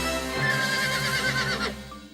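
A horse neighs in a cartoon, one loud whinny with a rising then falling pitch, alone and close over a steady low background hum.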